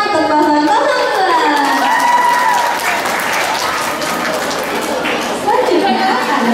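A school crowd at MTs Istiqlal Jakarta applauds candidate pair 02 with loud, continuous clapping, mixed with cheering and children's excited shouts and voices rising over the applause.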